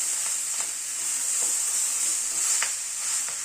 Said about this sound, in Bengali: কাঁচা লঙ্কা বাটাটাকে মিশিয়ে দিচ্ছি